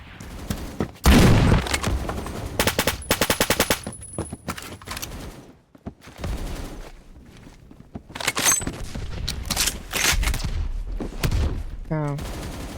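Suppressed PP2000 submachine gun fire in Roblox Phantom Forces, with rapid bursts of muffled automatic shots in quick strings separated by short pauses, then another burst near the end.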